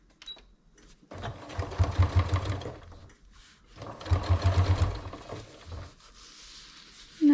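A sewing machine top stitching along the edge of a fabric zipper pouch, two loud close runs of rapid mechanical stitching, each a couple of seconds long, separated by quieter pauses.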